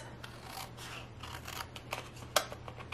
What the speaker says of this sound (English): we're just going to trim all of the excess